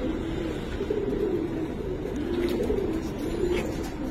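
Giribaz pigeons of the Palla line coo steadily in a loft, soft throaty rolling calls overlapping close by, repeating in waves over a low murmur.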